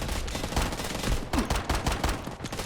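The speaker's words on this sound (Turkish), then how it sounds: "Tabancayla indireyim mi?" Dense, rapid gunfire from a pistol and other weapons in the video game Delta Force, with shots crackling in quick irregular bursts throughout amid a busy battle mix.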